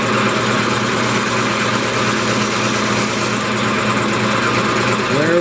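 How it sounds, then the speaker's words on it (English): Steady close hum of a woodturning lathe as the top of a spalted walnut vase is dressed with a tool, a constant motor drone with scraping texture, shifting slightly in tone near the end. "I'm going to go ahead and dress the top"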